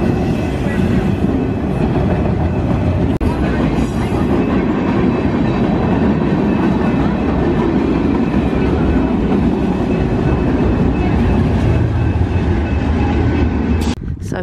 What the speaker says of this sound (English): This train is still going.